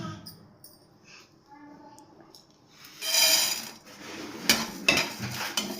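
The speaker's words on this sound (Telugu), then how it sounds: "ముందుగా స్టవ్ పైన కడాయి పెట్టుకున్నాం." A metal kadai set on a stove for dry roasting lentils, bringing a few sharp clanks and scraping knocks in the second half after a quiet start, close by, with some faint speech early on.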